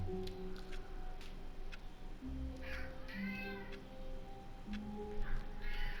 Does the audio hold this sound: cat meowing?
yes